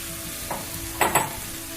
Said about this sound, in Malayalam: 30 സെക്കൻഡിന് ശേഷം കഴുകി വൃത്തിയാക്കി വെച്ച കക്ക ചേർത്ത് കൊടുക്കുക.